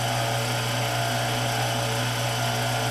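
A drill bit bores steadily into the engine block of a Farmall Super M tractor, a continuous even grinding whine with a low hum beneath, close and uninterrupted, with no talking.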